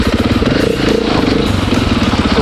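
An enduro motorcycle engine runs loud and close while tackling an obstacle, a steady throbbing drone with small rises and dips in throttle and no voices over it.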